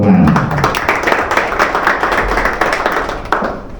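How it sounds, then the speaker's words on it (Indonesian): Audience clapping hands at a PATFI film and television association ceremony in Indonesia, a dense round of applause holding steady for about four seconds with faint murmurs beneath. "Mari kita tepuk tangan."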